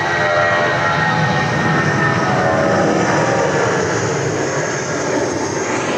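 A Jetstar airliner takes off at Sydney Airport in wet weather, its engines roaring loud and steady in a broad, continuous rush that stays up for several seconds with no voices.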